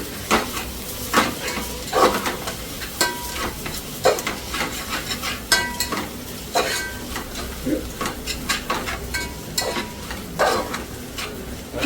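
Chicken pieces frying in a pan for homemade chicken noodles, a steady close sizzle broken by repeated spatula clanks and scrapes against the pan, with no speech.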